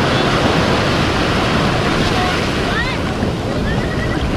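Surf rolls onto a rocky beach at a surfing spot near Madrid, a steady, loud wash of breaking waves mixed with strong wind buffeting the microphone.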